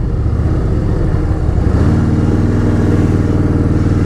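A motorcycle engine runs loud and close, idling with a rough throb that shifts to a steadier, deeper rumble partway through.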